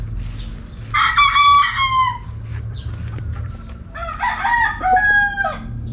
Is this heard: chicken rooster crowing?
yes